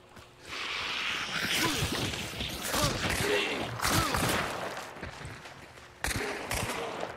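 Several gunshots in a video game, sharp bursts scattered over busy game noise and effects, with a final abrupt loud shot near the end.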